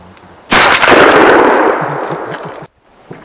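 A single loud, close shotgun blast from an MC-21 fired with a Severny Okhotnik cartridge during pre-season cartridge testing, its sharp crack followed by a long ringing decay lasting about two seconds before cutting off.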